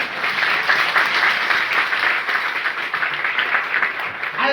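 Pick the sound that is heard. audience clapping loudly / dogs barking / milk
audience clapping loudly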